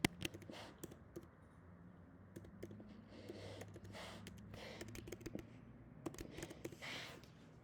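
Quick, soft keystrokes on a computer keyboard come in uneven bursts with short pauses, close by and fairly quiet, while someone enters text for an employee database.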